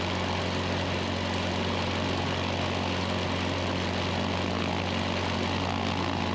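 A propeller airplane engine drones steadily at idle before taxiing, a loud, constant hum with strong low tones and a broad wash of noise, close and unbroken, with no talking.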